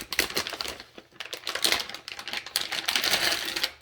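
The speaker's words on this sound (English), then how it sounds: "It's regular Scotch tape, taping it up." Regular Scotch tape is pulled off and pressed down while taping up a motherboard box, giving a dense run of crackly, crinkly tearing and sticking noises, close and fairly loud, with no talking.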